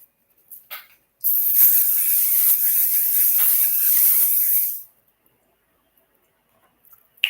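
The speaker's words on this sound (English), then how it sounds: "I'm going to just do a real quick spray on this." A single sustained hiss of aerosol hairspray on a pixie cut lasts about four seconds, loud and close, bracketed by a few faint clicks.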